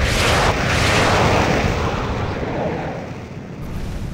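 Loud, sustained missile explosion from the Air Supremacy 2 jet combat game, a dense rumbling blast destroying a building in Touxiang Valley, filling the whole moment with steady low roar that slowly fades.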